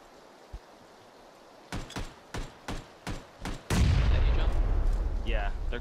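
Gunfire in PUBG: about six evenly spaced, punchy shots, then a loud, sustained rumbling blast that lingers to the end of the clip.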